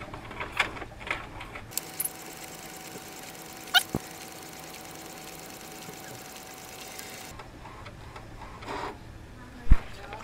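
An HP InkTank 315 inkjet printer, running again after a magnetic linear encoder replacement, prints with soft ticking and a steady whirring carriage pass, faint and close, with occasional clicks and thumps.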